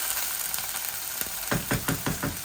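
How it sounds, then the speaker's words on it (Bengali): Chicken and onions frying in a pan: steady hissing sizzle throughout, with several soft scraping stirs near the end, close and moderately quiet. "আস্তে আস্তে আমার চিকেনের পেঁয়াজগুলা ভাজা হোক।"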